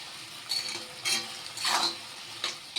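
Vegetables and tomato puree frying and being stirred in a pan for a vegetable chow mein, with scraping utensil strokes over a soft sizzle, several louder stirs at intervals, close by and with no talk.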